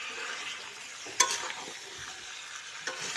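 Chicken kosha is stirred in a frying pan, with a soft sizzle underneath and a sharp scrape of the spoon against the pan, then a few lighter stirring scrapes, all quiet and close.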